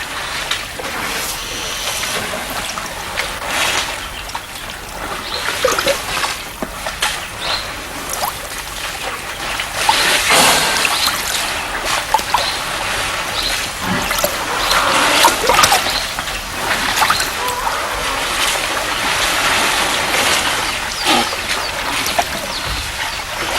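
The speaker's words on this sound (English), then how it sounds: "the trunk becomes a hose pipe, sucking up the water and squirting it in huge volumes directly into the mouth" A wild elephant draws water up its trunk and squirts it into its mouth, producing continuous splashing, gurgling and trickling sounds at close range, alone throughout with irregular louder splashes.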